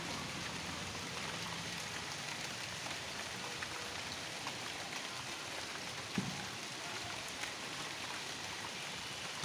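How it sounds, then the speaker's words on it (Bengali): Light midday rain falling in Kushtia in May, a soft, even hiss of drops on surfaces, faint and steady from start to finish. "একটা সাঁত্রিশে বৃষ্টি হচ্ছে মোটামুটি"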